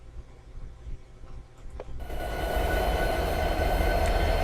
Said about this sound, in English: That's the train ahead of us.